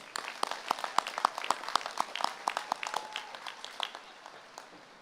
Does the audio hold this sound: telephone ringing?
no